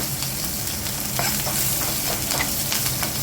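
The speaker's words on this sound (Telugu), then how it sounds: "పచ్చిమిరపకాయ ఎండుమిరపకాయ కరివేపాకు ముక్కలు యాడ్ చేసుకుని బాగా కలుపుకుందామండి" Green chillies, dry chillies and curry leaves fry in hot tempering oil for a white pumpkin dal curry, a loud, close, crackling sizzle stirred steadily throughout.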